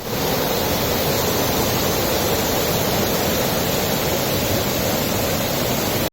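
Thottikallu waterfall pours steadily, a dense, unbroken roar of rushing water heard close and loud, with no pauses or other sounds standing out.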